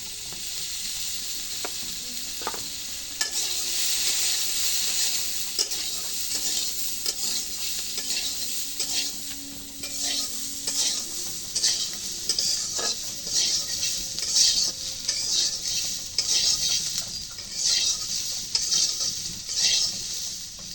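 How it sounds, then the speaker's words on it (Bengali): Potatoes frying in hot oil in a pan: a sustained, crackling sizzle with repeated scraping and clinking of a spatula against the metal as they are stirred, close up and without talk. "এখন আলুটা ভাজা হয়ে গেছে"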